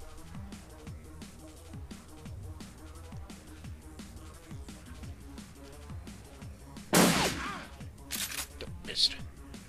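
An Aegis launcher fires in the video game Shadowrun Returns. A burst of sharp blasts rises above ongoing game noise and a speaking voice, followed by a couple of weaker cracks.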